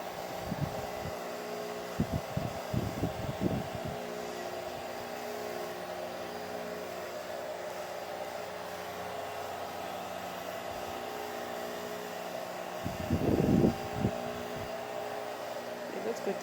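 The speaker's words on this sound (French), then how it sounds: "De l'autre côté, j'ai mis le séchoir de cheveux. Ici, j'ai mis le ventilateur." A hair dryer and an electric fan run together drying a freshly cleaned foam mattress, a continuous steady whir with someone talking briefly over it.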